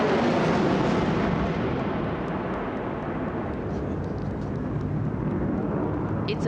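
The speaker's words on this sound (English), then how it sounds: "We will see the Rafale flying at a speed of 900 kilometers per hour" A Rafale fighter jet flies over Kartavya Path during a Republic Day parade, a loud, broad roaring rush of jet engine noise that holds steady and slowly fades slightly as it passes.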